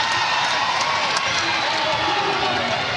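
Arena crowd at an NCAA women's basketball second-round game, Kansas versus Stanford, roaring and cheering after a three-pointer, a loud continuous wall of noise with scattered whoops throughout.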